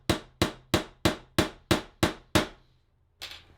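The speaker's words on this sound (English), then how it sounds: "I think I can do it with a hammer and a nail" A hammer strikes a nail against a metal clipboard rivet in eight sharp, evenly spaced metallic blows, close and loud, followed by a short pause and one more softer hit.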